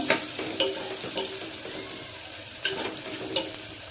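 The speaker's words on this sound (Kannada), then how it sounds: "ಇದು ಸ್ವಲ್ಪ ಫ್ರೈ ಆಗಲಿ" A chitranna rice mixture frying in a pan at low level, a soft steady sizzle broken by a few sharp scraping knocks of a stirring spoon, with no voices.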